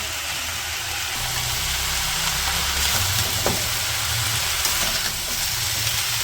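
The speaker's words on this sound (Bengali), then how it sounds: "সবগুলো মিশিয়ে ভেজে দিই।" Ground spices with salt, chili, turmeric and coriander frying in a pan in a village kitchen, a steady close sizzle with faint stirring scrapes throughout, and no talk.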